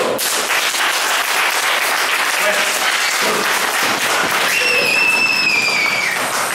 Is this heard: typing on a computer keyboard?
no